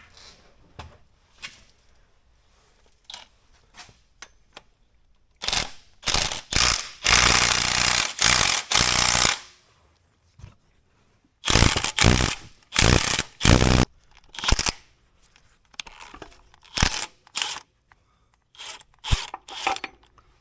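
A wrench working on broken exhaust manifold bolts on a Peterbilt truck: bursts of rapid ratchet clicking in several runs, loud and close, separated by quiet pauses, no talking.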